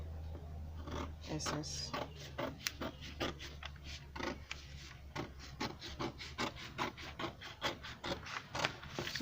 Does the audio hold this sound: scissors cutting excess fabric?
yes